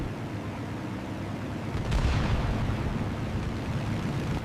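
Anti-aircraft flak gunfire and explosions burst against B-17 bombers, a dense, rumbling roar that swells into a heavier blast cluster about halfway through and keeps churning loudly to the end.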